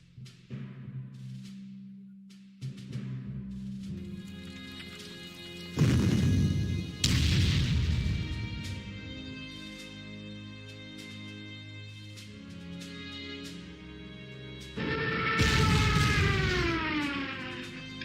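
A Stuka dive bomber strikes a unit in the Panzer Corps strategy game: faint, wailing, pitch-bending tones and a few dull thudding impacts in short bursts over quiet, sustained musical tones.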